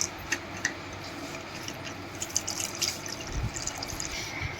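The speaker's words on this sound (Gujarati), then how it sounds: "હવે આપણે આમાં 1 લીટર જેટલું પાણી એડ કરશું." Water being poured into a jug holding ground paste to make Gujarati street-food panipuri water, a light trickle with sparse close clicks and drips, with no voices.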